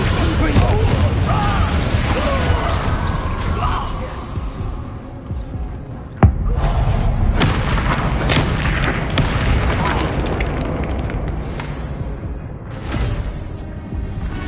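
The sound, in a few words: spell casting in video game Hogwarts Legacy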